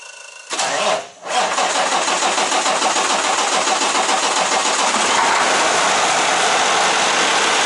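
A Kenworth T680 truck with a Cummins ISX15 diesel engine cranks briefly, fires, then settles into a loud, steady, rumbling idle close by.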